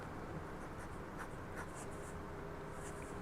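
Nib of a Sailor 1911 Large fountain pen with a 21-karat gold medium nib scratching across paper, a steady faint scribbling with small stroke accents over quiet room hiss.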